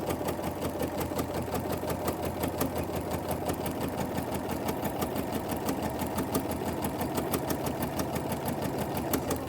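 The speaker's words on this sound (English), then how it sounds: "lower your presser foot again, and continue sewing all the way to the end." A sewing machine stitching fabric for a drawstring bag runs in a fast, even, motor-driven whir of needle strokes, close and continuous without a pause.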